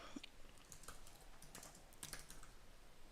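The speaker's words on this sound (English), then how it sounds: "Just typing it in." Rapid typing on a computer keyboard, clear clicking keystrokes in a steady irregular patter, close and fairly quiet, with no voices.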